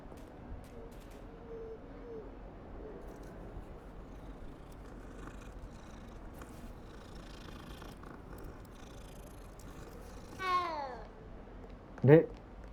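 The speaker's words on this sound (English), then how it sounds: "It's a cat." A cat in the video game Hogwarts Legacy gives two short meows near the end, the second louder, after a long stretch of quiet game ambience.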